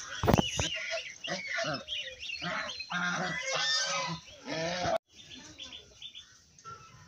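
Geese honking repeatedly at close range in a village yard with ducks and chickens, loud overlapping calls in bursts, with a voice talking in places and quieter cackling toward the end.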